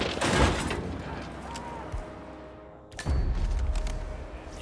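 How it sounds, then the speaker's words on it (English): Bursts of gunfire from a video game, sharp cracks and booms over a dense background with a voice talking. "We got gunshots."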